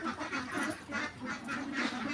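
Ducks on a farm of about 175 birds in Ishwarganj, Mymensingh, quack in a dense overlapping chorus. The calls are steady and moderately close, with no clear speech over them.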